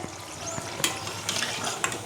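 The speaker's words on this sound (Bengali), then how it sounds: "এরকম করে আমি সব কটা ভেজে নেবো ওই লুচিগুলো" Luchi deep-fried in hot oil makes a continuous bubbling sizzle with a few sharp crackling bursts close by, without any talking.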